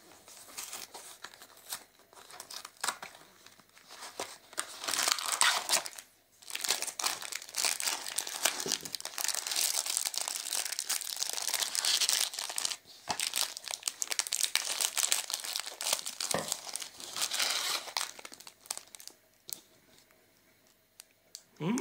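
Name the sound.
opening a Dr.Oetker cocoa powder packet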